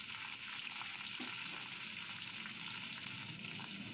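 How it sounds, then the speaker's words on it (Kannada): Vegetables for a vegetable khara bath or upma fry in a pan, producing a soft, steady sizzle that stays faint and even throughout with no voices. "ಹಾಕಿ ಸ್ವಲ್ಪ ಫ್ರೈ ಮಾಡಿಕೊಳ್ಳೋಣ"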